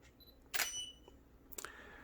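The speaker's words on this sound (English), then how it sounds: "Let's confirm that by pressing the shutter button here." A camera shutter button is pressed, firing remote Godox flashes: two short crisp mechanical clicks about a second apart, close but fairly quiet against a low background hum.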